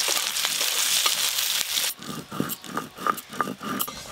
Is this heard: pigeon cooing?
no